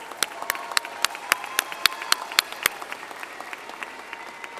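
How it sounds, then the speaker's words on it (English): A graduation ceremony audience applauds in a large hall, a dense, steady wash of clapping with sharp individual claps standing out, fading slightly toward the end. "Give them a round of applause."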